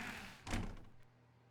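A single soft door thunk in The Stanley Parable video game, a brief muffled knock-like impact that fades into faint room tone, with no talk over it.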